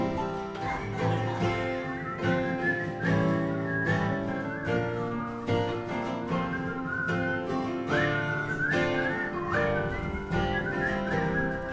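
An audience whistles a melody along with musicians performing live, the whistled tune riding over steady accompaniment with rhythmic beats throughout.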